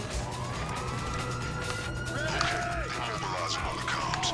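Police car sirens wailing in the GTA 5 video game, several rising and falling tones overlapping against a busy background, loud and fairly close, continuing throughout.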